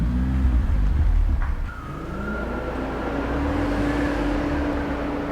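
A BMW E36 with about 350,000 km drives along, engine note rising and falling with gear changes, a steady motor hum dominating the interior sound.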